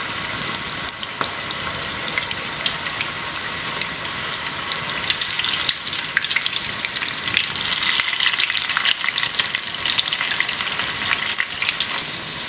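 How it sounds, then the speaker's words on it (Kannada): Sweet corn pakoda frying in hot oil, a steady dense bubbling sizzle with fine crackles throughout, close and moderately loud with no talking. "ಇವಾಗ ನೋಡಿ ಎಣ್ಣೆ ಚೆನ್ನಾಗಿ ಕಾಯ್ದಿದೆ. ಇವಾಗ ನಾವು ಪಕೋಡನ ಹಾಕೊಂಬಿಡೋಣ."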